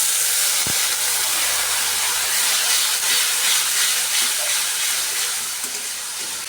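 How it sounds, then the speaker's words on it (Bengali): Water poured into a pan of frying onions sets off a loud, continuous steam hiss and sizzle that holds steady throughout and fades slightly near the end, close up with no talking. "সামান্য একটু জল দিয়ে দেবো"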